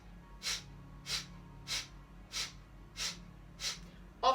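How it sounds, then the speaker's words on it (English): Breath of fire yoga breathing during a heart-centre practice: seven short, sharp nasal exhales repeat at an even, brisk rhythm, close and clear against a quiet room. "If you're not familiar with breath of fire, you're exhaling, short, sharp exhale."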